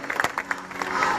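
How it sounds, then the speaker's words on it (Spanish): A live crowd at an end-of-summer celebration concert in Chillán Viejo bursts into a brief round of applause for a percussionist in a tropical dance band, with a voice speaking over the clapping. "Un gran aplauso para él, por favor."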